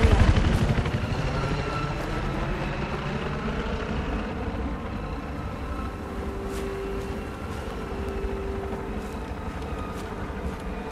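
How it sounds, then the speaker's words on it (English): Incoming helicopter in Battlefield 4, a loud rotor thump and engine drone that dominates throughout, with low pulsing blades and a rising whine as it closes in. "Watch out. Incoming helo."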